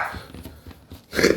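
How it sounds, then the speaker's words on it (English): A small dog barking in the background, with a couple of short yaps and a louder bark at the end, heard without speech. "We woke up the dog if you heard the little barking in the background"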